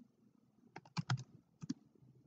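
Computer keyboard typing while coding an Android button: a short, quiet burst of a few close keystrokes in two quick clusters, no voice over it.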